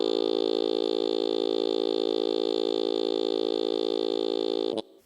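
Guitar chords are played through a Korg Miku pedal, and a steady, synthetic, vocal-like tone holds on one flat pitch before breaking off in a brief glitchy burst at the end.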